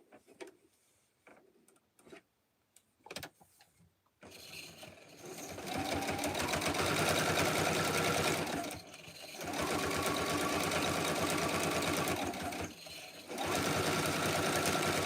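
A sewing machine stitching a pillow runs in long, loud, steady whirring bursts, close up, stopping briefly twice, after a few quiet handling clicks and rustles at the start.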